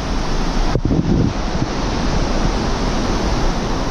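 A waterfall roars steadily and loudly along a forest route, a dense continuous rush of water with no pauses and no voices.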